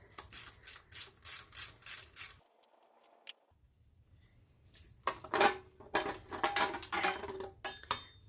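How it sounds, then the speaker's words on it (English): Baffle plate coming off a small block 350 engine during teardown, a run of close, evenly spaced metallic clinks and ratcheting taps, a short quiet pause, then more clattering metal handling and scraping. "The baffle plate comes off."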